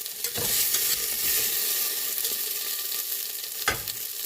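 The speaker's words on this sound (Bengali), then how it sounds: "পেঁয়াজটা ব্রাউন হয়ে গেছে এবার আমি এই পেঁয়াজটাকে তুলে নিচ্ছি" Onions browning in hot oil for biryani, a loud continuous sizzle close up, broken by sharp scrapes as a spatula stirs and lifts them out.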